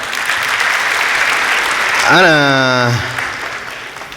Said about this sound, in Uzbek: qarsakiylar